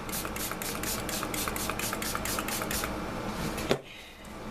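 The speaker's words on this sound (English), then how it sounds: "I'm going to spray a little bit more, make the color a little bit deeper" Colour spray hissing from a can onto a stamped mixed-media craft piece, a steady pulsing spray throughout that cuts off sharply near the end, leaving a quieter background.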